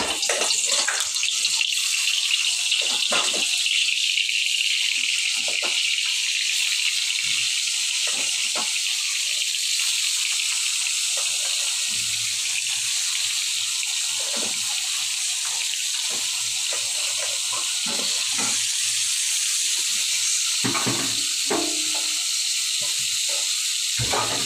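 Teasel gourd (kakrol) frying in hot oil gives a steady, loud, dense sizzle and crackle that runs unbroken throughout, with occasional small pops and clatters beneath the hiss.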